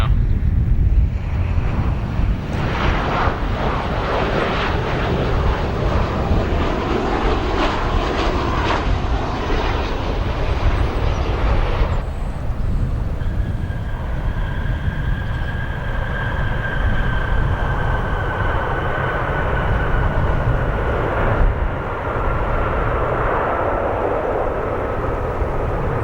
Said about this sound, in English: Nice strong reverse thrust from that 737-800.